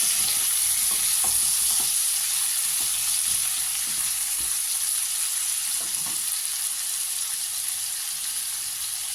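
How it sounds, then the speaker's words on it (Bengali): Potatoes and tomato frying in a pan, producing a dense, even sizzle with occasional utensil scrapes and taps, close and fairly loud. "এর মধ্যে আলুটা ভাজবো। টমেটো ভেজে নিচ্ছি"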